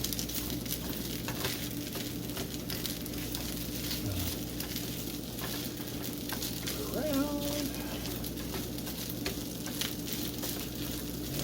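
An egg fries in a pan for breakfast fried rice, with a loud, continuous crackling sizzle throughout and a faint stirring sound midway.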